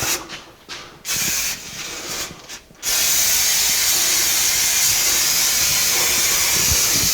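Gray detail paint hisses from an aerosol can onto the dashboard of a 1982 Jeep CJ7, a few short bursts giving way to one long steady spray that runs close and loud to the end.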